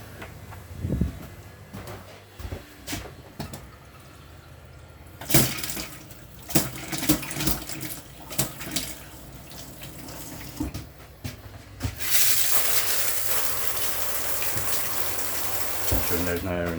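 Water spurts and splutters from the taps of a Bailey Unicorn Seville caravan as trapped air is bled from the system. Irregular bursts give way to a steady, loud gush near the end, with a voice talking at times.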